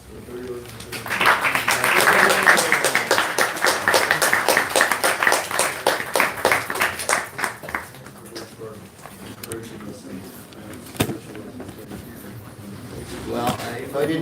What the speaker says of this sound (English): another good round of applause for Duryodana